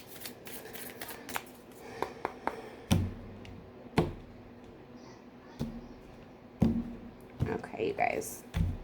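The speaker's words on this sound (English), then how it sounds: "I'm going to give it a couple of shuffles here" Tarot cards shuffled by hand in a handful of sharp riffling bursts and taps, close and fairly quiet, with a soft background hum and a voice murmuring between them.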